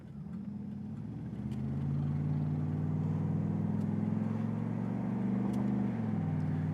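A 1989 Chevrolet Camaro IROC-Z28 accelerates steadily through its gears from inside the cabin, the engine note climbing and then dropping at a shift near the end, loud and continuous with no talking.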